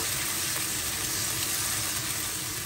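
Ginger garlic paste hits a pan of onions frying with a little added water, giving a steady, close, dense sizzle that holds evenly throughout with no voices.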